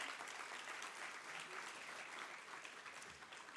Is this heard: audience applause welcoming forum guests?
yes